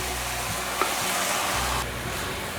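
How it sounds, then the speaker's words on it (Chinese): A prepared sauce thickened with starch hits a hot wok of taro and shiitake in a vegan stir-fry, giving a bright, continuous sizzle close up, with a few soft scraping knocks from stirring. "现在倒入刚刚调好的料汁，搅一搅，再放进来，因为有淀粉。 从锅边倒入"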